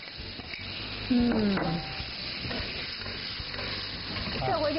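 Vegetables and pork stir-fried in oyster sauce with a little oil, steady close sizzling with scraping stirs and occasional clatters of the utensil, no voices.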